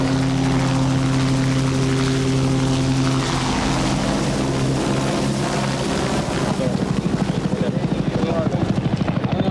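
A helicopter lands near a crowd awaiting a presidential visit, its loud steady rotor drone turning into a rapid chop as it settles, with voices faintly underneath.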